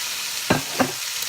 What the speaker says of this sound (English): We're going to let that sizzle for a minute.